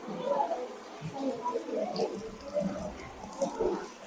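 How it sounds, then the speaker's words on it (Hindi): Water poured over children's hands for handwashing splashes and trickles in uneven bursts, close by, with a faint voice or two mixed in. "चलो पानी डालो रे।"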